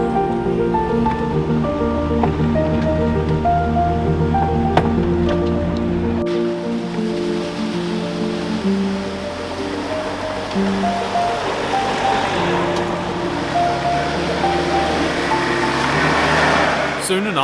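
A truck ploughs through a deep water hole on a rough ridgeline track, with a steady engine drone under a long continuous rush and slosh of water that grows noisier partway through.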